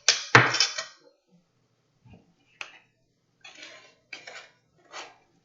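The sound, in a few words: spooning lavender sugar scrub into a glass mason jar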